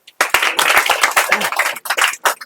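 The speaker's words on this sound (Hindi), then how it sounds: "एक बार ताली बजाइए" Students in a classroom clap for a classmate, a close, lively burst of hand claps with uneven rhythm that breaks into scattered claps near the end.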